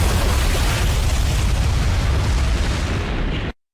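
A bomb strikes a time-travelling ship in a TV science-fiction series, producing a loud, sustained roaring explosion that fills the whole clip before cutting off abruptly.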